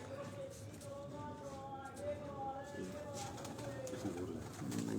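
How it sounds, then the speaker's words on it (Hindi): Pigeons at a breeding setup coo steadily in the background, soft and continuous, while someone talks over them throughout. "ये अब तमाम कबूतर जो अली भाई आपको दोस्तों दिखा रहे हैं"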